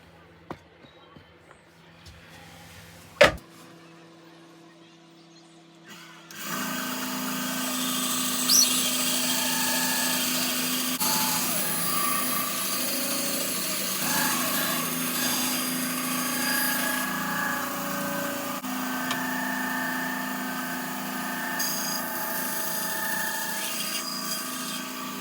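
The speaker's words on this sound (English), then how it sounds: "Back to the bandsaw." A bandsaw cuts a workpiece during a build of a label stand for a thermal printer: after a quiet start with a sharp knock, the saw comes in loud and steady with a droning whine for the rest of the clip.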